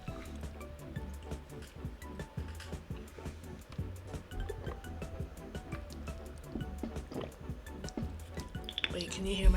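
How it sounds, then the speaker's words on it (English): Water is gulped down close to the mic as a string of quick, wet swallowing clicks and liquid sounds in a steady rhythm. "Wait, can you hear my gulp?"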